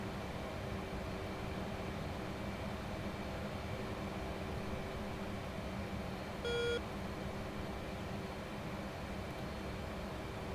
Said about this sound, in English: Most of the button beeps and squeals and all that we hear is mostly friendlies